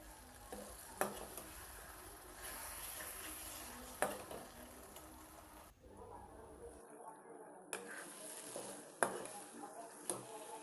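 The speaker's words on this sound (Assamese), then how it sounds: "এতিয়া মাংসখিনি দি দিছোঁ, দি এতিয়া ফ্ৰাই কৰিম গোটেইখিনি ধুনীয়াকৈ।" Meat frying in a pan of spiced masala gives a steady low sizzle, with occasional sharp clinks of a spoon against the pan breaking through at intervals.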